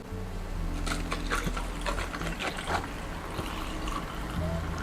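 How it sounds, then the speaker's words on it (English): Instant coffee pours over ice in a glass, a steady close trickle with small clinks and crackles of shifting cubes running throughout. "Okay, so now I'm going to start pouring my instant coffee."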